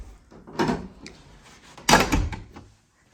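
A newly hung interior door swings shut in a house, with two solid wooden thumps about a second apart, close and fairly loud, followed by silence.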